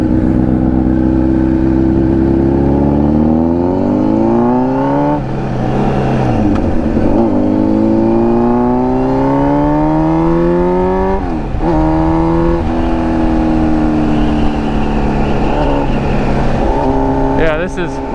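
A 2007 Honda CBR 1000 RR 1000cc motorcycle accelerates hard through several gears, the engine pitch climbing repeatedly with brief drops at each shift, loud and close, while a rider shouts over it.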